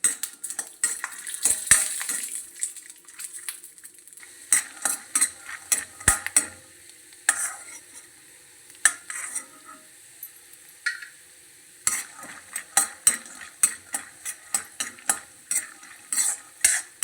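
Peanuts dry-roasting in a pan on low heat for a variety rice dish, with repeated scraping and clinking stirs of a metal spoon over a faint background sizzle and no talking.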